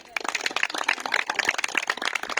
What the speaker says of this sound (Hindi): तो सर के लिए एक बार जोर से तालियां हो जाए।